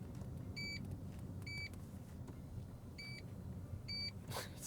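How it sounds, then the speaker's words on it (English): Repeated electronic warning beeps from a 2024 Subaru Solterra as the power seat moves forward, four short double-toned chimes spaced about a second apart over a steady low cabin rumble. "Every time you move the seat forward, it beeps like it's on a back loader on a construction site."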